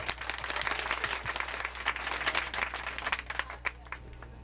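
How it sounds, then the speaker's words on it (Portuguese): An audience at a school family day talk applauds the arrival of a priest, a steady, moderately distant patter of many hands clapping that gently tapers near the end. "Uma salva de palmas para ele."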